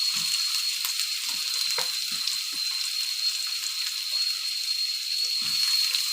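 Green chillies frying in hot oil with onions and curry leaves, a steady close sizzle running throughout with a few soft stirring knocks.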